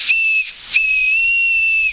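Star Trek style toy whistle blown twice, with a breathy hiss under a clear high steady tone: a short blast, a brief pause, then a longer sustained one, close and loud.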